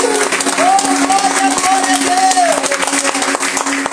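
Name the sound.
applause in church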